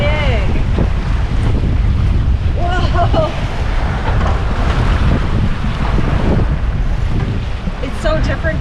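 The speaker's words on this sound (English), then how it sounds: "these waves are so big" Big waves and strong southwest wind while sailing a sailboat on Green Bay, loud gusting wind noise and washing surf, with a person's voice exclaiming and talking over it.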